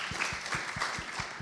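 A small conference panel audience clapping briefly, soft scattered claps in a quick rhythm, somewhat distant in a room.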